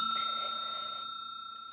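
A notification bell sound effect, a single bright ding that rings out and slowly decays over under two seconds, alone without talk.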